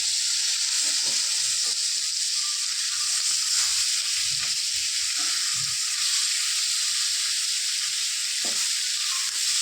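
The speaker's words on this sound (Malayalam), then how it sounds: "നമ്മൾ അയില തലോട് കൂടിയിട്ടാണ് പൊരിച്ചെടുക്കുന്നത്" A whole mackerel, head still on, fries in a pan with a steady, moderately loud hiss of oil and a few soft clicks and knocks, with no voices.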